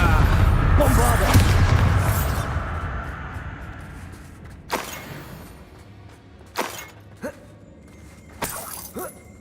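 A Bombarda explosion spell in Hogwarts Legacy, opening with a loud shattering blast and crumbling debris, followed by several sharp, separate cracking bursts spaced over the following seconds, with a player's voice heard between them.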